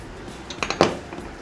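Spoon stirring green chilli pickle with lemon juice in a metal or glass bowl gives a few light clinks and scrapes, clustered in a quick run of taps with one louder knock, in a quiet kitchen.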